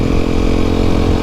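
An Aprilia SX125 125cc motorcycle engine drones loud and steady while riding, a close continuous mid-pitched buzz with no talking.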